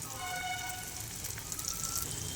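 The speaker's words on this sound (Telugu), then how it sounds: "ఇప్పుడు ఇందులో మనం ప్రిపేర్ చేసి పెట్టుకున్న సమోసా ఫ్లవర్స్ని వేసుకుందాం." Flower-shaped samosas fry in hot oil, giving a steady, close, crackling sizzle like light rain throughout.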